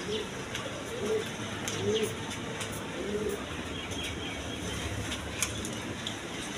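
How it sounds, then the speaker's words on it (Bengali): Pigeons coo in a pigeon house full of birds, with several soft, low rolling coos in the first half over a faint background hiss and scattered clicks, fairly quiet. "দেখেন পুরো ঘর ভরাই কবুতর আছে আল্লাহর রহমতে"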